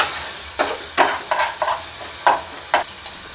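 Red masala for mutton curry being stirred in a pan, a steady frying sizzle broken by about eight sharp spatula scrapes at uneven intervals, close and fairly loud with no voices.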